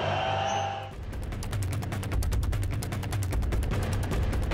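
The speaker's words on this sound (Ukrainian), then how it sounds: "Шашки із газогінним газом та постріли в повітря" At the 2004 Orange Revolution protest in Ukraine, shots fired into the air crackle in a rapid, regular burst that runs on steadily after a brief rush of background noise.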